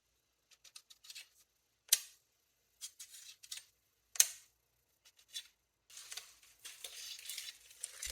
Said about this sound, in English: Let's take out these T-nuts. They need a good tap to get them free once they've been tightened in there.